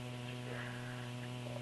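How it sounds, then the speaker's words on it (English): Clothes dryer running indoors, a steady low electrical hum with a faint whir that holds constant throughout, quiet and even with no voices. "Your dryer is going on."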